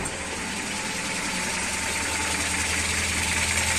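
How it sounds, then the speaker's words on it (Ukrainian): A GAZ 2410 car engine idles steadily, a smooth low rumble with a light even vibration, close by and unchanging. "Мотурець став тихенько робити."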